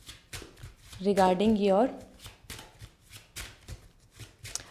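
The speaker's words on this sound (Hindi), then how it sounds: "So here I am pulling the card as master card for you." Tarot cards being shuffled and pulled, giving a run of soft papery flicks and slaps at a fairly steady rhythm beneath someone speaking, plus one brief sung or hummed phrase near the start.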